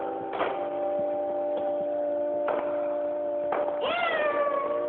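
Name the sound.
cat yowling after its tail is stepped on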